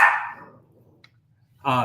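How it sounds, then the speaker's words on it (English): Dog barking indoors, two short barks, one at the start and another near the end, with quiet in between and no talking. "excuse my dog"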